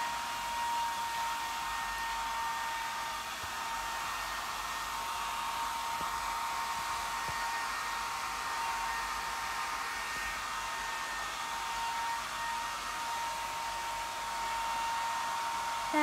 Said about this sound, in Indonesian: dengerin aja suara hair dryer si Shani